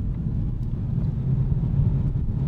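Low engine rumble from a Lexus CT200 hybrid hatchback as the driver floors the pedal from about 50 km/h, a steady muffled in-cabin drone with no speech over it.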